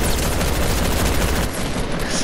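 Dense, continuous bursts of rapid gunfire from a new gun in the Fortnite zombie mode, loud and close, with shots overlapping into a sustained rattle that thins slightly toward the end.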